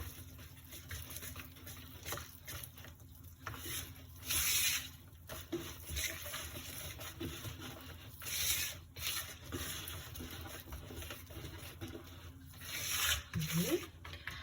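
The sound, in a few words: stirring pie batter by hand without a mixer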